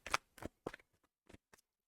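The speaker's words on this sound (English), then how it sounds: "All right, 2 shuffles for you." A tarot card deck is shuffled in several quick, quiet bursts of riffling and slapping cards, separated by short silent gaps.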